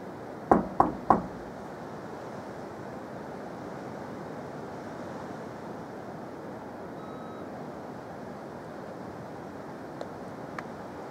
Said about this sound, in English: I'm gonna knock another three times.